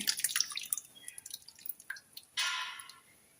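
Cooked lentils poured into boiling sambar with red amaranth greens, a run of soft drips and splashes followed by a brief wetter pouring rush, close and quiet.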